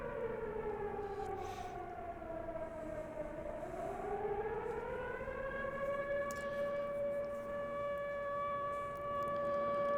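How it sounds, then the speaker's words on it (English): A civil defense siren in the film Monster a Go-Go wails steadily, its pitch dipping and then rising before it holds a sustained tone, faint and somewhat distant over a low background hiss. "They had the budget for a siren."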